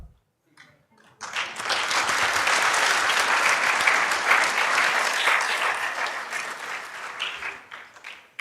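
A university innovation week and industry summit audience breaks into loud, sustained clapping after a brief quiet start, a dense even roar of hands that holds for several seconds before tapering slightly at the end.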